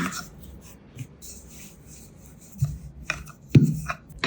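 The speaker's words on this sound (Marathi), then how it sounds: "आता हा उंडा सुक्या पिठात घालून याची चपाती लाटून" A rolling pin pressing chapati dough dusted in dry flour, soft close rubbing and faint knocks of the pin against the board, uneven and quiet with a few louder thumps toward the end.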